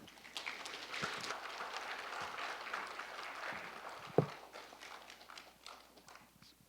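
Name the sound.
audience applause welcoming a lecturer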